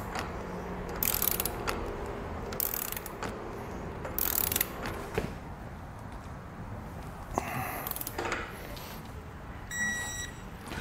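Ratchet turning a 1.5-inch socket to tighten a trailer hitch ball on a Curt ball mount for a 2-inch hitch, giving busy mechanical clicking and clattering at moderate level, with a short bright burst near the end.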